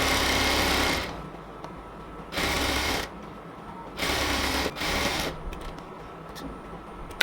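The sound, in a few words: sewing machine stitching elastic onto salwar fabric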